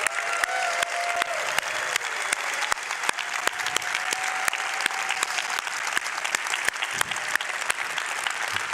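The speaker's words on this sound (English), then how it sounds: "Can we all give him a round of applause and send him our love?" A theatre crowd at PAX West 2024 claps steadily in sustained applause, dense and even throughout, with a few sharper claps standing out.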